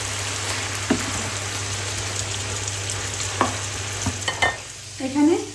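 Cabbage stir-fried with green and red peppers in a pan, a steady frying sizzle with a few scraping stirs and a louder toss near the end, close and without talk.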